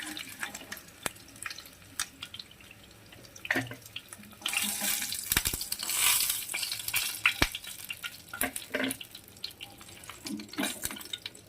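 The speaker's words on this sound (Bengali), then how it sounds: "দেখো, আমার মাছগুলো হালকা লাল করে ভাজা হয়ে গেছে।" Chitol fish pieces fry lightly in hot oil, a steady soft sizzle with scattered sharp crackles and a louder, denser burst midway, close by with no talk.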